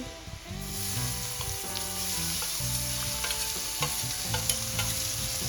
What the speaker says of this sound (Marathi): आता आपल्याला टोमॅटो छान मेल्ट होईपर्यंत परतून घ्यायचा आहे कांद्यासोबत